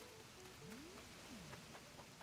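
Steady rain falls in the video game Animal Crossing: New Horizons, a soft continuous hiss with faint drips and a few gliding musical tones over it.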